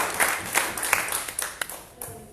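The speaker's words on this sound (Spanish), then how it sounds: "Denle un aplauso fuerte, como vean que se lo merece" A church congregation claps during a service, a moderately distant spread of scattered hand claps with a few sharper bursts that thin out toward the end.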